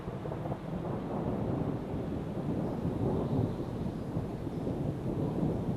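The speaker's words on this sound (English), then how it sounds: "That, everyone, is a very active thunder cell. It's just non-stop thunder." Continuous rolling thunder from a very active thunderstorm cell, with rumbling close overhead and no breaks across the clip, steady and fairly loud, with light rain and wind noise beneath it at a camp shelter.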